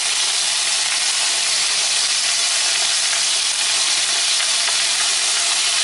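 Sliced onion sizzles steadily in plenty of oil in a rondeau pan, a loud, continuous bright hiss and crackle, with no voices over it.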